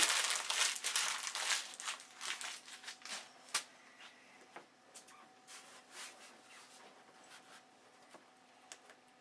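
Sandpaper rubs across a primed, paper-covered model aircraft wing in quick, irregular scratchy strokes, busy and crisp at first and then thinning into sparse, soft scrapes in a quiet room.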